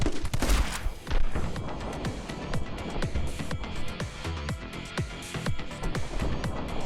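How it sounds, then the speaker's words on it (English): Gunfire in a My Friend Pedro boss duel, with dense rapid shots crackling continuously among impacts and crashes, loud and busy throughout with no voices. "2 people jumping around with guns trying to shoot each other"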